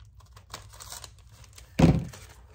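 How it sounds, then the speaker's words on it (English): An old sticker sheet is cut in half, giving a quiet rustle of paper handling followed by a single sharp, close snip-like burst near the end. "This is an old sticker sheet. Let's see if I can cut it in half"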